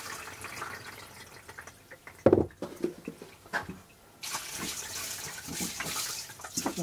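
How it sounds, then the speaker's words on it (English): Tap water runs over polished tumbled stones as they are washed, with a few knocks and clatters, then a steady stream of running water that grows louder toward the end. "So I'm going to wash these out"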